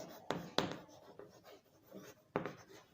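Pen strokes scratching across paper while a multiplication step is worked out in a ninth-grade algebra lesson on linear equations. A few distinct, close strokes stand out above a low background.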